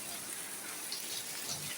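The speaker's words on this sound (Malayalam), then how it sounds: "ഇന്ന് നമുക്ക് നല്ല മഴയാണ് രാവിലെ." Steady morning monsoon rain falling outdoors, an even wash of drops heard at moderate distance with no voices.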